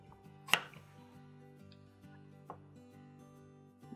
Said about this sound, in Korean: 저는 모양을 조금 잘라줄게요.